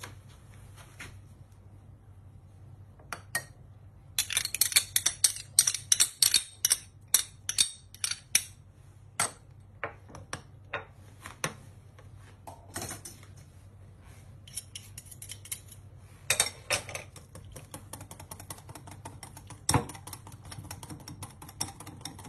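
A homemade yogurt and mayonnaise dressing with garlic and parsley is whisked in a bowl, giving quiet, quick runs of sharp clicking taps against a faint background hum, with no talk.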